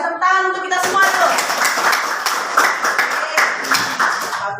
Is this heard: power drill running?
no